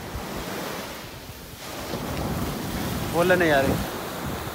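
Sea waves wash onto a beach in Dubai, a rolling surf roar mixed with gusting wind buffeting the microphone, and someone speaks briefly near the end.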